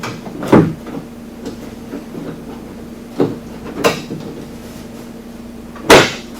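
Plungers locking a Quadboss Expedition Jr cargo box into place on a Polaris RZR 900S, several sharp isolated clunks and clicks spaced a few seconds apart over a low steady hum.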